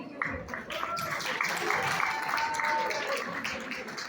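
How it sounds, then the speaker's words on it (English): Audience applause for a state senator at a community iftar in Astoria, Queens: a steady wash of many hands clapping at moderate distance, holding evenly for several seconds with a faint murmur of voices underneath. "So please give him a huge round of applause."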